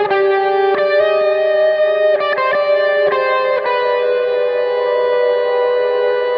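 Electric guitar fed through a very long reverb, sustained chord tones ringing on and blending into a continuous wash, with a few new notes struck over the top; loud and close, no voices.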